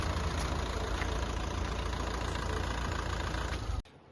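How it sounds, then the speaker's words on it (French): A used car's engine idles with a steady, low, even rumble, then cuts off abruptly near the end, leaving near silence. "Je vais éteindre le moteur."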